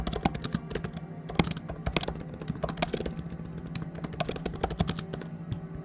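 Fast, uneven typing on a computer keyboard, with close, crisp key clicks tapping continuously throughout with no talking.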